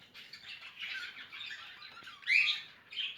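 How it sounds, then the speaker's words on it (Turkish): Pet cockatiel squawking in an indoor aviary during a nest box check: a run of faint, scratchy calls peaking in one sharper squawk, with a short squawk after it. "Sultan papağanı bir şeyler yapmaya çalışıyordu."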